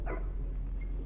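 A dog barks in the horror video game Supernatural, giving one or two faint, distant yips over a steady low hum, with no voices.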